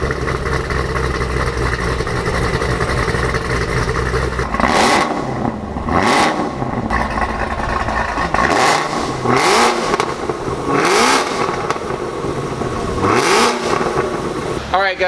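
A VelociRaptor V8 in the Exorcist car, a HPE850 GT350R build, fires up and blips through several sharp revs over a steady loud idle, each surge rising and falling in turn close to the listener.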